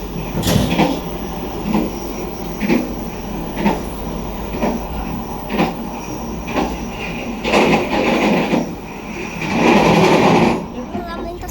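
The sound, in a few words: passing train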